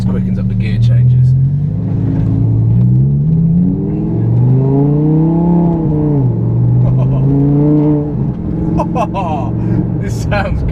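A supercar engine switched into sport mode with quicker gear changes: a loud, steady drone climbs in pitch through the gears, with shift dips around the middle and end, and a voice speaks briefly toward the end.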